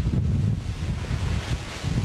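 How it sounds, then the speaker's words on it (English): Hurricane Irma gusts roar through loose pieces of metal outdoors, a loud, constant buffeting rumble of wind against the microphone with no voices. "you start to hear the wind flying through pieces of metal and stuff"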